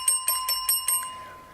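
Students in a classroom repeatedly strike small desk bells, giving five quick bright dings in a fast, even rhythm. The ringing is loud and close, then fades into a short decaying tail.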